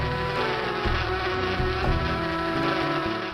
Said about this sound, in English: How am I ever going to get the honey away from those bees?